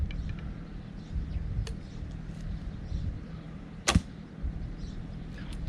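A recurve bow is released with a sharp snap of the string as the arrow flies, a single close thump standing out against quiet outdoor background with faint bird chirps.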